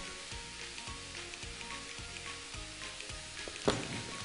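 Meat frying over high flame in a kitchen, a continuous close sizzle with a rhythmic pulsing undertone and one sharp clink near the end, no talking.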